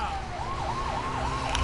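A police-style emergency siren from a Lego City Undercover vehicle wails in a rising and falling pattern over the low rumble of a driving car, loud and close throughout.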